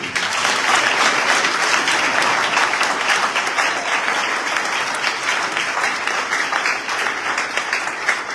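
A worship congregation breaks into long, vigorous applause, a full crowd of clapping hands forming a constant, even roar that barely dips across the whole stretch, with no voice over it.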